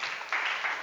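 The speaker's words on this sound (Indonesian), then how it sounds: "Luar biasa, tepuk tangan." Brief burst of applause from a classroom audience in a teacher-training session, steady broadband clapping that swells slightly partway through, fairly close and alone without talk.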